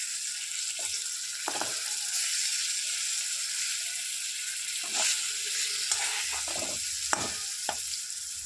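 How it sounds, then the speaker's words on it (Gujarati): Fish sizzling in oil in a pan over low heat for a Gujarati dish, with a steady hiss and a few brief scraping stirs of a utensil spaced through it. "હવે આપણે તેને ધીમે ધીમે હલાવતા રહીશું અને ધીમે આંચે આપણે તેને પકાવવાનું છે"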